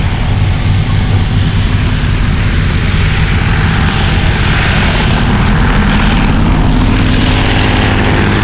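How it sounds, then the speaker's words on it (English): A loud, steady propeller engine drone from a departing Bristol Fighter vintage biplane at an air show, continuous and close, filling the whole stretch without any voices. "The Bristol Fighter departs."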